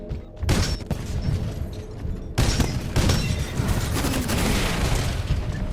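In Titanfall 2, a Tone titan's salvo core fires a dense, continuous barrage of booming launches and explosions. The blasts surge after a short gap and stay loud and rumbling to the end.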